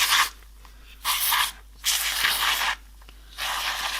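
Cleaner sprayed into the inside of a Gucci leather wallet in four separate hissing bursts, each lasting roughly half a second to a second with short pauses between, close and fairly loud with no talking.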